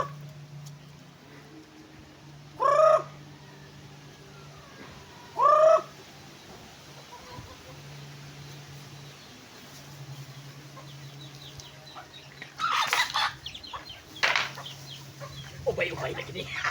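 Two short, loud chicken calls stand out a few seconds apart over a low steady hum, followed later by scattered rustling and clucking.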